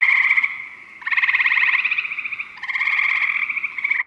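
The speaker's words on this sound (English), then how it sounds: "a gray tree frog" Gray tree frog giving three long, loud musical trills in a row, each a steady pulsed buzz lasting about a second, heard close with nothing else behind them.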